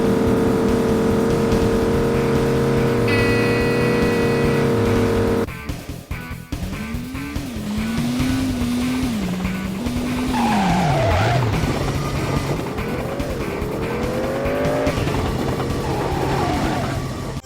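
Cars drive and skid in the PS1 game Driver 2, with steady engine drone, rising and falling revs and repeated tire squeals that sweep in pitch, loud and continuous throughout with no talk.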